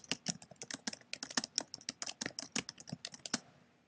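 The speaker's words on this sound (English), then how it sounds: "So if I type something on here" Rapid, quiet clicking of a computer keyboard as someone types a string of keystrokes in quick irregular bursts for a few seconds.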